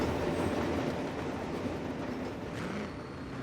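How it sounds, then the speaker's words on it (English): A train rumbles past on a drag strip in the Forza Horizon 3 racing game, a steady low rolling roar with faint rail clatter that eases slightly toward the end. "Hold on, the train's coming."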